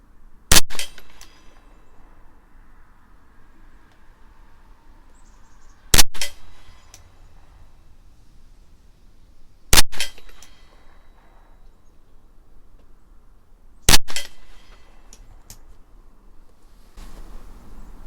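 Four sharp .22 rifle shots from a Derya RIA TM-22 fired at a 50-yard target, spaced several seconds apart with quiet pauses between, each crack loud and close with a short ringing tail.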